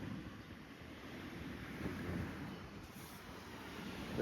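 Soft, steady wind rushes and rumbles outdoors at an archaeological cemetery in the Peloponnese, Greece, with no distinct gusts, fairly quiet and continuous throughout.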